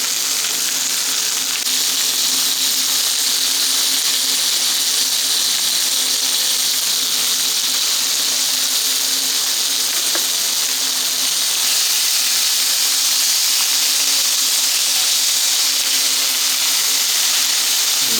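Pork chops sizzle in a pan over an MSR Whisperlite Universal camp stove turned low, a steady broadband hiss and crackle that holds at an even level with no talk.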